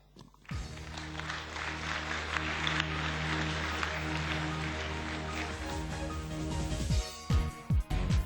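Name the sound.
audience applauding a speaker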